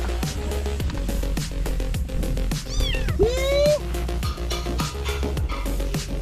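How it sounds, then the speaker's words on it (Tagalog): A cat meows a few times, with rising and falling cries, over a steady background hum and scattered tapping sounds. "Pusa dito. Pusa."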